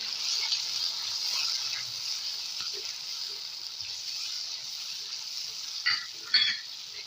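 Chili, spices and dried fenugreek being stirred and fried in a pan, a steady soft sizzle with a few scraping stirs near the end, heard alone at close range.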